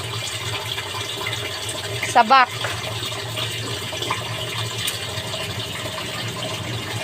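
Steady running water pours and splashes continuously onto banana plants, with a brief creak or squeak midway and occasional quiet speech in the background.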